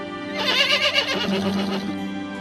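A horse neighs loudly and close, a long shaky whinny that rises and then trails off into a lower rumbling breath.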